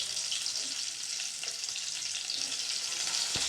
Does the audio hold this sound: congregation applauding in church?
no